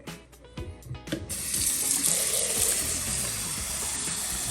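Tap water pours into a cooking pot for rice in a home kitchen: a few handling knocks come first, then a loud, steady gushing stream runs continuously and close up.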